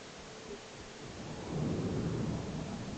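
Rumbling thunderstorm on Mars in the Stationeers video game: a broad roar of rain-like noise swelling into a louder, deeper thunder rumble midway, with no talk.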